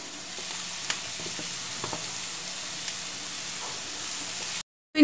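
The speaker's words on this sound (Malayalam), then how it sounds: "ഇനി അതിലേക്ക് നമ്മൾ അരിഞ്ഞു വെച്ച സവാളയാണ് നമ്മൾ ഇട്ട് കൊടുക്കാൻ പോകുന്നത്." Chopped onions sizzle and fry steadily in hot oil in a pan while cooking okra masala gravy, a continuous close crackle with small pops, cutting off abruptly near the end.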